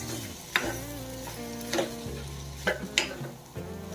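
Boiled potato being stirred into fried onion and turmeric in a pan, soft sizzling under a few distinct spatula scrapes and taps, close by, with a low steady hum beneath and no voices.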